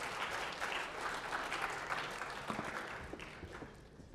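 An audience breaks into warm applause, a busy patter of many hands that stays fairly even before gradually thinning toward the end.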